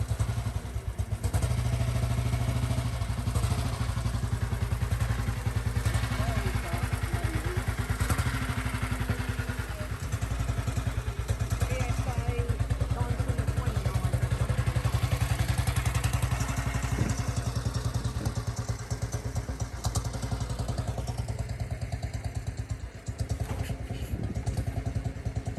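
Motorcycles at a vintage vehicle run, a loud continuous chugging engine with a fast, steady thudding beat that runs for the whole stretch, with clatter and faint crowd voices.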